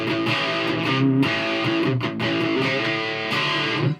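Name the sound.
electric guitar through Laney HCM30R amp with Max boost on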